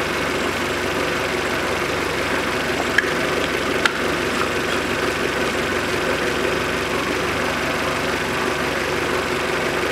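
Peugeot 407 1.8 engine idling smoothly at a steady 700 rpm after a timing belt repair, a close, even mechanical hum with faint ticking and two small clicks.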